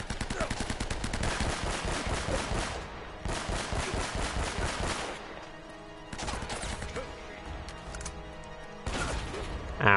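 Shotgun fire in the video game Uncharted: repeated loud, sharp blasts in rapid bursts over the first five seconds, then scattered single booms with ringing gaps and a final loud shot, dense and close.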